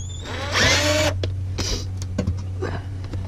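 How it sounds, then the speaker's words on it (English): Phillips screwdriver work on the fuel pump cover screws of a 1990-97 Mazda Miata, with an opening whirring burst followed by short scraping and clicking bursts over a low steady hum, close by. "we're going to get a Phillips head screwdriver, and we're going to go ahead and take off these screws on the cover holding it in"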